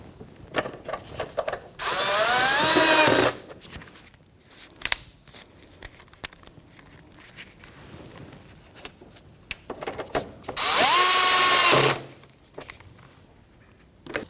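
A power drill with a 7mm socket drives the two screws of a plastic fender flare clip on a 2007-2014 Cadillac Escalade, giving two short high whirring bursts of about a second each, close and separated by quieter handling noises.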